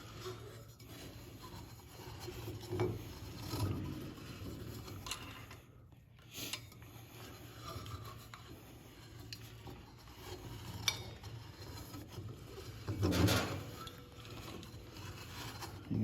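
A roller tool works a bead into a turbo pipe for an S475 turbo, giving grinding, creaking metal-on-metal rubbing with a few ratcheting clicks and shifts, fairly close and uneven.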